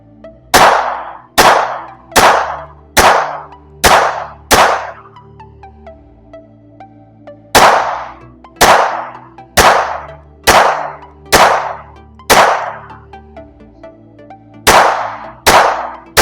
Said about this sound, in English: So let's put some rounds down range,